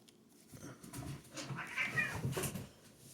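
A house cat meows and caterwauls in a run of drawn-out, wavering cries, close and moderately loud, over low room rumble.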